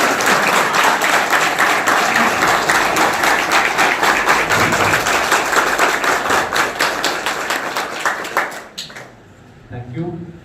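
An audience at a college's NAAC Grade A celebration applauds loudly and steadily, a dense wash of clapping that thins out after about eight seconds, with a voice speaking briefly as it ends.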